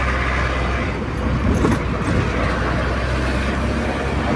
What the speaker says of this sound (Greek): Γιατί είμαστε με το φορτηγάκι και ακούγεται πάρα πολύ δυνατά ο θόρυβος.